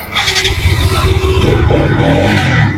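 A 2020 RS 200 sports motorcycle at a second-hand bike shop starting up and idling loudly close by, a low rumbling engine with a rising rev in the middle and a steady throb after.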